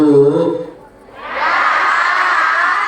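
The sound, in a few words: audience applause and cheering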